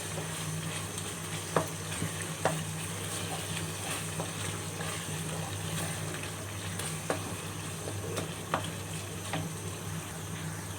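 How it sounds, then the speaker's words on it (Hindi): Tomatoes frying in a pan for keema, a continuous soft sizzle with occasional clicks of a spoon stirring, close and moderate in level. "जी टमाटरों की जो है सही से भुनाई हो रही है।"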